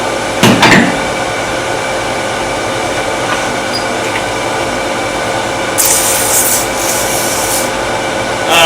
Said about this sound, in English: Okay, a little sanding.